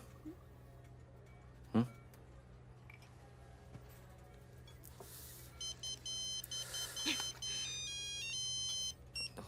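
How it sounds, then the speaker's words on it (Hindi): A mobile phone plays its ringtone in a Hindi-dubbed action film scene, with a sharp thump early on followed by repeating electronic beeping tones that start midway and continue to the end. "तुम्हारी माँ का फोन है।"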